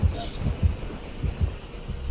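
Heartbeat of the killer's terror radius in Dead by Daylight, a low, steady double thump repeating about every half second, fairly loud and close, with no talk over it.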